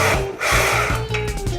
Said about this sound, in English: Got a 14 millimeter loaded on the gun, 12 millimeter open-ended wrench. Let's go ahead and work these bolts off right here.